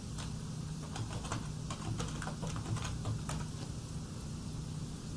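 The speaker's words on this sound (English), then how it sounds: "let me type that in real quick" Close, quiet typing on a computer keyboard as search words are entered, a quick irregular run of light key taps that thins out near the end, with a faint hum behind it.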